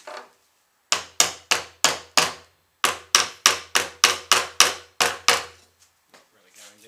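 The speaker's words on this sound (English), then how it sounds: "Just hammer those down." Hammer blows drive staples into a wooden beehive frame, coming in two quick bursts of about five sharp, evenly spaced strikes each, loud and close, with a few faint knocks afterward.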